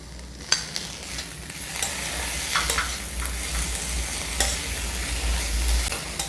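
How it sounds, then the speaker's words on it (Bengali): Chopped tomato tossed into vegetables frying for leftover-rice fried rice with egg, a continuous sizzle in the pan with scattered sharp scrapes and clinks of a spatula stirring, close and fairly soft. "এর মধ্যে আমি কুচিয়ে রাখা টমেটো দেব।"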